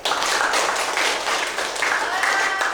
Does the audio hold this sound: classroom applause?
yes